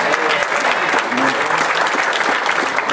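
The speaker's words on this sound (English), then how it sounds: "Let's give him a hand clap of praise." A church congregation claps in praise, a thick continuous wash of many hands clapping steadily for the full stretch, fairly loud and close, with faint voices underneath.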